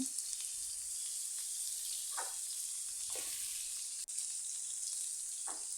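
Cauliflower fries in a pan with turmeric, giving a constant, even sizzle with a few soft stirring sounds and no talking.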